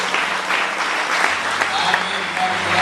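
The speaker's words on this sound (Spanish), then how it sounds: "Dar un aplauso al Hijo de Dios." A church congregation applauds during a Spanish-language worship service, with a continuous, fairly loud burst of many hands clapping and a voice speaking over it.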